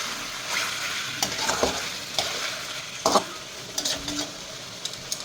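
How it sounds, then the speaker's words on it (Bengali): Chicken pieces stir-fried in a pan for a chilli and whole-garlic chicken curry, with a steady sizzle and frying hiss broken by scraping stirs of a spatula, close and moderately loud, no talking. "মাংসগুলোকে ভালোভাবে কিছুক্ষণ ধরে কষিয়ে নিতে হবে"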